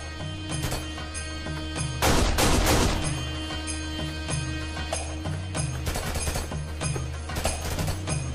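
Gunfire in a TV action scene with snipers in northern Iraq, dense rapid shots and a loud burst of fire over a low rumbling score, continuing in scattered cracks.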